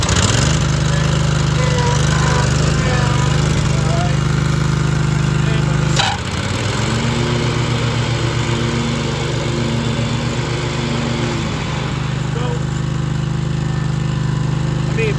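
A Cub Cadet 2518 lawn tractor's small engine runs steadily and loudly nearby, a constant low drone with a brief drop and recovery in pitch midway through.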